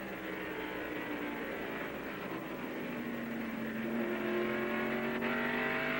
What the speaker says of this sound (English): There's Kyle Petty in car number 42 trailing as we look out the back glass of the Trop Arctic Pontiac driven by Dick Trickle.